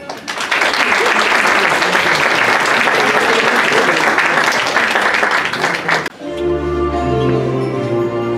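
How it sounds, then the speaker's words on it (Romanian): Audience applause at a charity Christmas concert put on by a technical college, loud and dense for about six seconds before giving way to a choir beginning a carol. "Să-i primim cu aplauze!"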